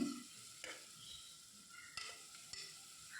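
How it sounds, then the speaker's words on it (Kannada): Onion with ginger and garlic paste frying quietly in a pan, a soft sizzle broken by a few sharp scrapes and stirs of a spoon, with no speech. "ನೋಡಿ ಇದೆಲ್ಲ ಹಿಂಗೆ ಚೆನ್ನಾಗಿ ಫ್ರೈ ಮಾಡ್ಕೊಂಬಿಡೋಣ"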